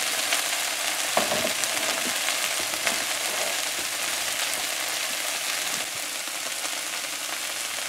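Okra sizzles steadily in a hot oiled pan, a loud, dense, continuous crackle close up with a few brief stirring scrapes and no voices over it.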